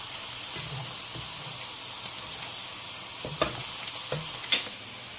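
Onions sizzle gently in a pan as they are lightly browned for a ridge gourd curry, with occasional scrapes and taps of a stirring spoon. The sizzle is close and steady, and no one speaks.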